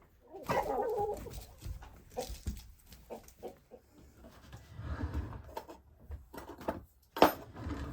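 Chickens cluck and murmur in short irregular bursts nearby, with some soft rustling and one sharper squawk near the end.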